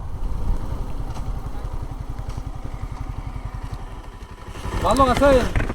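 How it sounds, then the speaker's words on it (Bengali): A motorcycle that fails to start chugs and sputters in rapid, uneven pulses, then fades as voices and other noise rise near the end. "ওনার বাইকটা স্টার্ট কেন নিচ্ছে না একটু দেখবো"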